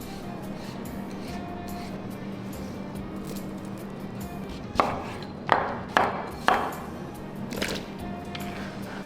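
Quiet kitchen hum, then a run of about five sharp knife chops on a board while cutting sweet potatoes, evenly spaced, close by.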